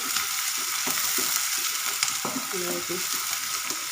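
Onions sizzling and frying in a pan as the base for a lobia (black-eyed pea) lentil dal, a steady close crackle with occasional stirring scrapes and clinks, no talk.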